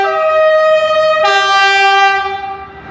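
An East Midlands Railway train at Nottingham station sounds a very loud, sustained three-tone horn close by, the chord shifting partway through before fading out.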